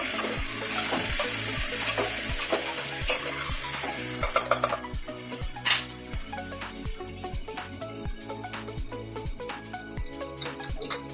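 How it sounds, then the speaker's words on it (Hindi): Chicken frying in oil in a pan for a palak chicken curry, a steady sizzle with repeated spoon stirs and scraping against the metal, plus a few louder clinks partway through, no voices. "अच्छे से इसको भून लेंगे।"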